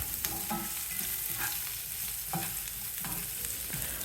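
Large-cut onions, about one and a half cups, sautéing in a little oil for paneer butter masala: a steady close sizzle with repeated scraping stirs every second or so, no voices.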